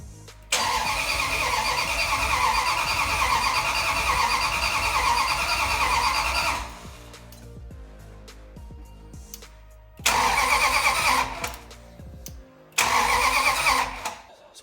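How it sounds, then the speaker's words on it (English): A Mopar car's engine with a newly swapped Magnum motor cranks in a long, steady, rhythmic whir that stops, then two more loud bursts of cranking follow close by without firing into a settled idle. "This thing is ready to fire, so let's check a couple more wires and crank this thing over."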